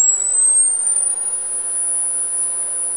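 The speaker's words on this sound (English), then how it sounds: "There's 10 kilohertz." A small speaker emits a 10 kHz test tone, a piercing, very high steady whistle that climbs briefly at the start and then sustains evenly throughout without speech.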